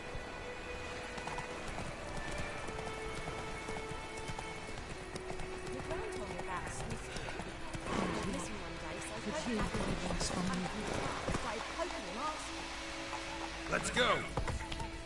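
Geralt's horse Roach moving through White Orchard in The Witcher 3, rendered as a steady, fairly close clip-clop of hooves running the whole stretch, with a brief whinny-like accent, set against sustained game ambience and music and intermittent speech.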